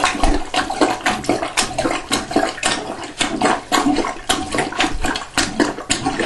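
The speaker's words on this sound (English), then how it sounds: "once we get as much water out of the bowl as we can, we're going to, again, take our sponge up the rest of it" Water scooped out of a toilet bowl during a toilet floor repair, repeated splashing and sloshing scoops in a quick irregular rhythm, close and fairly loud, with no talking.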